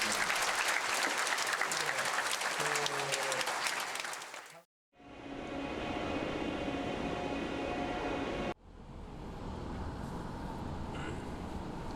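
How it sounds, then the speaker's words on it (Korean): An audience at a business leaders' gathering claps in a sustained, dense round of applause for several seconds, then cuts to a different steady roar of crowd noise in later segments. "청중은 기꺼이 박수를 보내주었다"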